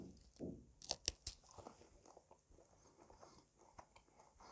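Close, quiet chewing of a sweet carob pod, with a few sharp crunchy bites early on, then softer irregular mastication noises.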